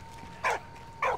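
A dog barks twice in the video game Valiant Hearts: The Great War, two short clear yips about half a second apart over a quiet background hum.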